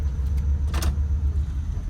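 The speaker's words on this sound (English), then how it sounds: "we're inside the 1960 Cadillac Ghostbuster car" Cabin of a 1960 Cadillac Ghostbusters Ecto-1 replica on the move, a steady low engine and road rumble with a brief brighter rattle or whoosh near the middle and no talking.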